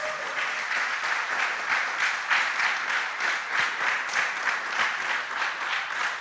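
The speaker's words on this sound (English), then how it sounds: "please give yourselves a round of applause" An in-house audience at a school quiz competition gives sustained applause, a steady, moderately loud wash of many hands clapping that swells slightly and holds without pause.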